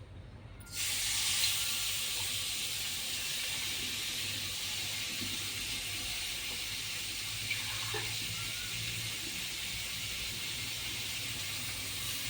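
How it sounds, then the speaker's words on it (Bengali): Small fish hit hot oil in a wok and set off a sudden loud, steady sizzling hiss that carries on without a break, close by and filling the whole stretch. "কড়াইটা গরম হয়ে গেছে, মাছগুলো ছেড়ে দেবো।"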